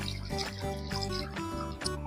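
Water poured into a pot for chicken soup, a litre going in with a bubbling, gurgling splash that comes in uneven pulses, close and fairly quiet.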